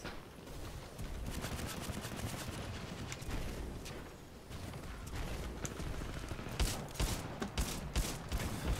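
Gunfire in the video game Titanfall 2: dense bursts of rapid shots crackle through a fairly quiet firefight, with sharper, louder volleys toward the end.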